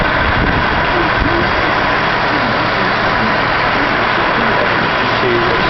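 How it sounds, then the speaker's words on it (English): The A/C compressor of a 2009 Cadillac DTS runs steadily under the hood, a loud continuous engine-bay hum and whir with no breaks, heard up close. "Compressor is turning."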